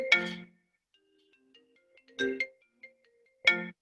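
A phone ringtone sounds in three short, separated bursts of a bright chiming melody, faint and somewhat distant, with quiet gaps between them.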